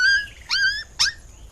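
A cartoon dog whimpers in three short, high whining cries in quick succession, close and clear with little else behind them.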